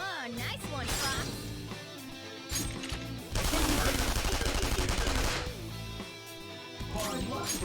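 Rapid bursts of gunfire in the Persona 5 Royal video game, loud and sustained in the middle, set over game music and a speaking voice.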